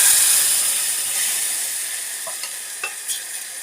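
Tomatoes frying in hot oil in a pan for tomato chutney, a loud continuous hiss and sizzle that slowly fades, with a few faint clicks near the end; no talking.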